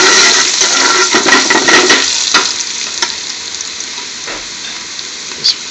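Chopped pre-minced garlic hits a hot pan for a restaurant-style spinach (saag) curry: a loud, crackling sizzle with brief stirring scrapes that gradually settles toward a quieter fry.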